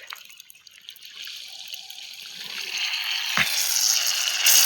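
Water trickles and splashes steadily from a tap nearby, growing a little louder, with a single thud partway through as the tap is shut.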